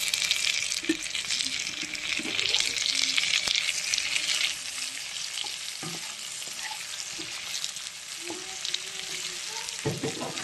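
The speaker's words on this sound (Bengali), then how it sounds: "প্রায় আমার পেঁয়াজ হালকা করে ভাজা হয়ে গেছে। এবার আমি টমেটোটা এর মধ্যে দিয়ে দেবো।" Onions and tomato frying in a pan, a continuous crackling sizzle with scattered spatula scrapes and stirring knocks, loudest early and settling slightly later.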